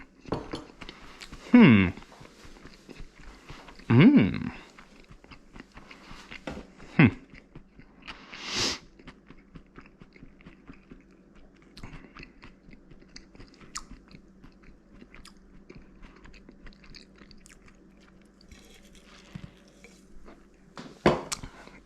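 Biting into and chewing a forkful of Moroccan couscous, a few crunchy bites standing out near the start, followed by quieter mastication with occasional utensil clinks.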